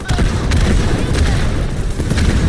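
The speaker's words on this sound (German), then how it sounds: "Kodiaks! Feuer frei auf die Generatoren!" Explosions and gunfire as Kodiak units fire on generators in Halo Wars 2, a dense, loud barrage of booms and shots rolling continuously with battle noise throughout.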